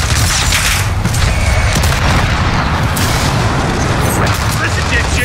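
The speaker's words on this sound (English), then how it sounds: "Precision airstrike inbound." A sustained barrage of airstrike explosions in the video game Rust, dense rumbling booms and crackling blasts blending into a loud continuous roar, with speech mixed in.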